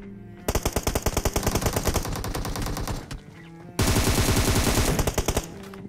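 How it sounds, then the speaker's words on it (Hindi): Rapid automatic gunfire from PUBG Mobile, loud and close, fired in long bursts of fast repeated shots. After a short pause near the middle, it resumes with another sustained volley. "भाई मैंने इस बंदे पे फायर किया और ये बंदा नॉक भी नहीं हुआ"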